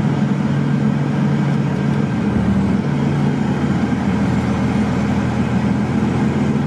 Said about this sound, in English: So we're going to go ahead and engage our fans.